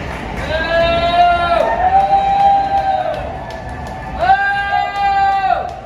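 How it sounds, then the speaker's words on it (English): Crowd booing at a protest outside Dodger Stadium during Los Angeles Dodgers Pride Night, a sustained mass of voices rising in drawn-out jeering waves, loud and close, swelling again after a brief lull. "Yeah, they're booing now."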